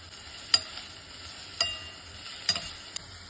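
Onion with ginger garlic paste sizzles softly in a pan, a steady faint crackle broken by a few sharp clinks of a spoon scraping and stirring at irregular intervals.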